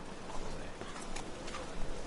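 Horse hooves clip-clop in the video game The Witcher III, a quick, soft rhythmic patter of hoofbeats set low under a faint background wash.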